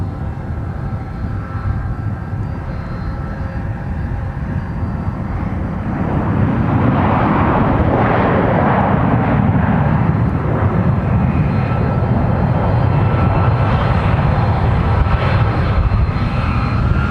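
An Airbus A300 taxiing at Minneapolis–Saint Paul airport, a steady loud jet engine roar heard from a distance that swells partway through and then holds constant, with no voices.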